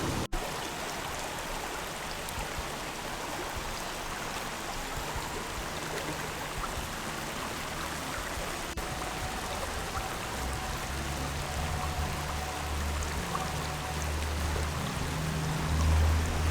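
River flowing outdoors in Jamaica, a steady broadband rush of moving water heard continuously at moderate level with no talking.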